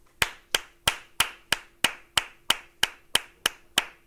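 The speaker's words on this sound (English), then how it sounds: "I'm going to clap my hands twice per second." A single person claps their hands at a steady, metronomic pace, producing about a dozen sharp, evenly spaced claps in four seconds. The claps sound close and crisp in a quiet room, with no talking between them.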